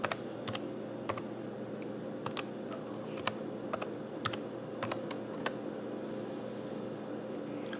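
Computer keyboard typing in short bursts of sparse, crisp key clicks over a steady low room hum, with no voices.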